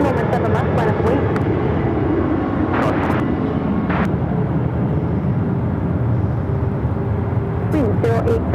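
An airliner takes off from runway 7 left at Phoenix airport, a steady loud engine roar filling the whole stretch while radio voices talk over it.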